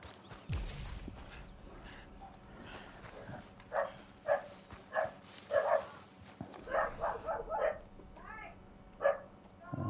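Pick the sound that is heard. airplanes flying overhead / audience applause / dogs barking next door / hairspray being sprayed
dogs barking next door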